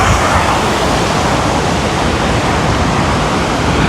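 River water rushes steadily downhill at a Philippine river park, a loud, continuous broadband roar of flowing water that stays up close and unbroken throughout.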